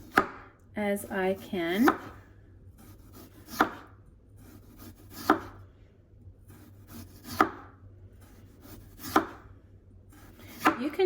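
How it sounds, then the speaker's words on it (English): A knife thinly slices potatoes on a cutting board, with a quick burst of cuts followed by single crisp chops at a steady, unhurried pace, close and clear; a voice speaks briefly. "we're going to thinly slice these potatoes"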